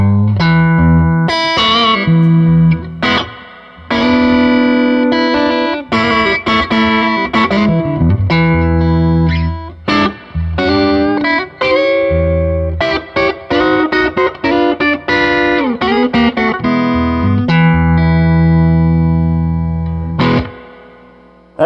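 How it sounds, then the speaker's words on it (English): Electric guitar played through an Andrews Spectraverb 18 amplifier with heavy reverb, giving loud, distorted chords and single notes with long, washy tails, played alone with no talk. "So the reverb can get wherever you want it to be."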